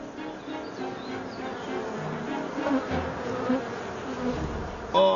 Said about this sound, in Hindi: देखिए, ये रहा पूरा का पूरा छत्ता। अब बेचारी मधुमक्खियां कहां जाएंगी? ओह, मधुमक्खियां मुझे काट रही हैं।